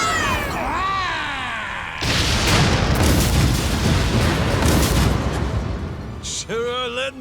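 Ship cannons blast during a naval battle in Like a Dragon: Pirate Yakuza in Hawaii, a dense roaring barrage of booming shots that fills the middle of the clip, with shouted voices before and after.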